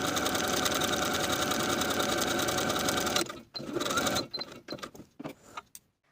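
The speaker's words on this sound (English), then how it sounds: "I'm going to start my basting stitches using the longest stitch on my machine at the seam" A home sewing machine runs steadily at its longest stitch length while basting a sleeve seam for ruffle gathering, a continuous whirring hum for about three seconds, then breaking into short stop-and-start bursts.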